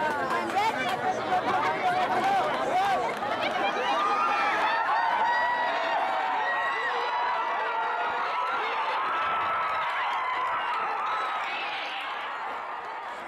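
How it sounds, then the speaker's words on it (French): Village crowd in Tanzania shouting and shrieking as a bull charges through a game: sustained loud chatter, yells and excited cries from many people, swelling then easing off slightly toward the end. "chaque charge du taureau déclenche des cris et des mouvements de foule"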